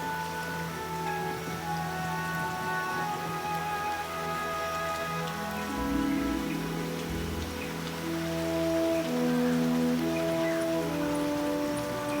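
Steady heavy rain pours down continuously in the Pantanal forest, a dense hiss of drops on thick canopy with a constant drone of insects or birds in the background.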